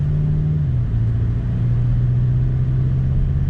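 A 2019 VW Jetta GLI S turbocharged inline-4 with DSG gearbox, its engine note digitally enhanced, drones as a loud, deep, steady cabin hum with a slight dip in pitch early on.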